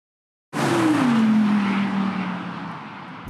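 A 2020 Audi RS6 Avant all-wheel-drive car launches in a race with a sudden loud engine roar. The roar holds a sustained droning pitch that slowly sinks, and tire noise runs beneath it.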